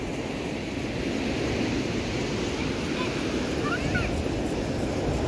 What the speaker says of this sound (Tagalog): Yung mga malalaki yung alon.